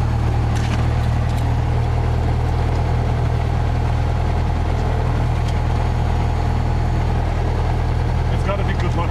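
A small training airplane's piston engine idling steadily right after start-up at Rockcliffe Airport, a loud continuous low drone heard from close by inside the cabin, with faint talk over it.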